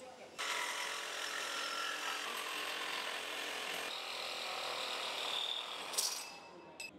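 Hilti saw guided to cut vertically, a steady close, buzzing cut running about six and a half seconds at an even level before easing off with a brief sharp scrape near the end.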